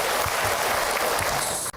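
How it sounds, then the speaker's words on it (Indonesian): Dense audience applause for a woman who asked a question at a religious talk, a loud continuous wash of many hands clapping that cuts off abruptly at the end. "Tepuk tangan buat ibu tadi yang bertanya."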